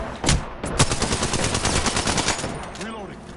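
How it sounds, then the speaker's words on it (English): Rapid enemy gunfire in a PS4 shooter game, dense bursts of automatic shots crackling loudly and close, with a voice speaking briefly near the end. "The enemies are shooting at me."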